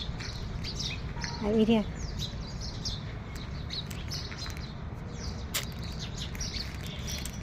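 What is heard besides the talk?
house sparrows chirping while coming to feed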